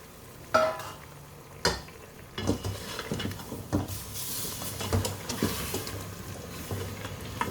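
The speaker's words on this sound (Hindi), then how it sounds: "आँच को ज़रा तेज़ करके इसको मसाले के साथ भूनूंगी" Meat fries with masala in a karahi for Behari karahi, a low constant sizzle under repeated clacks and scrapes of a spoon stirring against the pan, close and with no voices.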